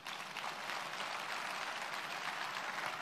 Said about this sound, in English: If you want to clap, clap very well.